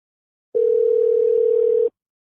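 Steady continuous telephone tone during an outgoing call, a single unbroken loud tone lasting over a second and then stopping abruptly, heard alone.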